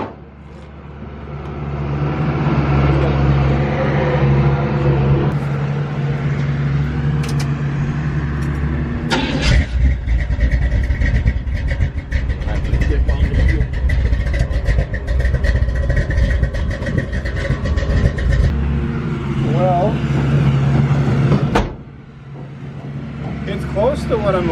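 Car with a late-1960s engine block running on a test drive, a steady loud mid-range engine drone throughout with revving changes and cabin rumble, and people talking over it.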